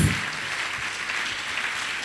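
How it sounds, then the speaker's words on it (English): A church congregation applauds in a large hall, dense steady clapping from many hands that carries on evenly for about two seconds after a short louder onset, with no voices over it. "Can you clap for Jesus on my behalf?"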